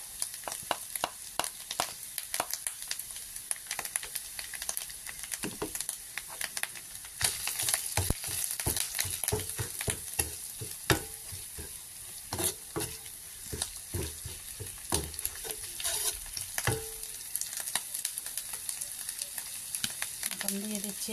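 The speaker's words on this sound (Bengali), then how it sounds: "পেঁয়াজ হালকা ভাজা ভাজা হয়ে গেছে, এখন দিয়ে দিব রসুন আর আদা বাটা।" Onions frying with garlic and ginger paste in a pan, a continuous close sizzle broken by frequent sharp scrapes and clatters of stirring, with occasional faint talk.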